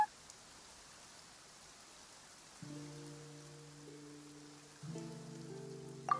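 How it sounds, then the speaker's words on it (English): Rain falls steadily in Genshin Impact's Fontaine region, a soft even hiss throughout, joined midway by sustained tonal game music chords layered over the downpour. "It's raining."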